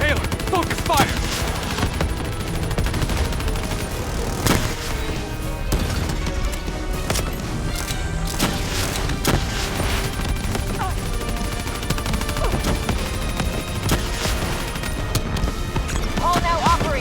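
Rapid automatic gunfire and scattered shots rattle through a Call of Duty Black Ops 3 firefight, dense and continuous over a busy battle soundscape, with a voice speaking over the action.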